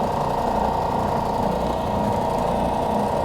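A Ridgid EB4424 tabletop belt and oscillating spindle sander running at steady speed, a loud close motor drone with a constant buzzing hum and no talk.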